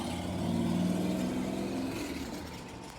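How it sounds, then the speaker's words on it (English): A motorbike passes somewhere outside while a tower fan runs indoors. Its engine drone swells and then fades over about three seconds, distant and moderately quiet, under a steady hum. "That was a motorbike in the background"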